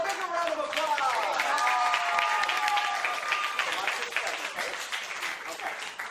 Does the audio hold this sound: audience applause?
yes